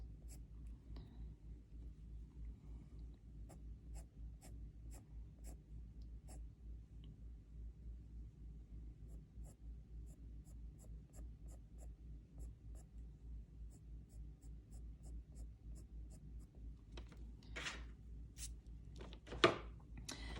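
Coloured pencil makes short, light fur strokes on paper, a faint, soft scratching that repeats steadily at close range, with one louder scrape near the end.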